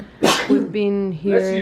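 A single sharp, loud sneeze bursts out up close, followed immediately by a person speaking.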